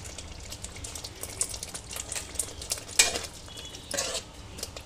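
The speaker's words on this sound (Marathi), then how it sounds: "ते आपण छान परतून घेणार आहोत।" A raw banana kofta curry base with yogurt and salt is stirred and sautéed in a pan, giving a soft frying hiss with occasional spoon scrapes and clinks against the metal.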